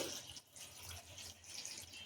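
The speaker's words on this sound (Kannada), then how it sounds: "ಇದು ಮುಳುಗಷ್ಟು ನೀರು ಹಾಕ್ತಾ ಇದ್ದೀನಿ" Water runs steadily into a pot of kabuli chickpeas being readied for pressure cooking, a soft continuous splashing pour heard faintly and alone.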